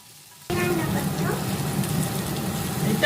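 Chopped onions dropped into oil and ghee with bay leaves in a kadai for chicken maharani, an abrupt burst into loud, close, continuous sizzling that holds steady after a quiet start.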